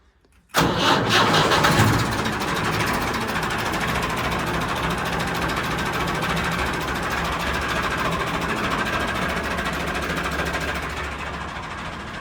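A tractor engine cranks on the self-starter and catches with a loud burst, then settles into a steady, rough idle that runs continuously.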